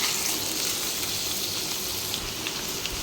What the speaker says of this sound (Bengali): এবার আমি আলুটাকে কিছুক্ষণ ভেজে নেব।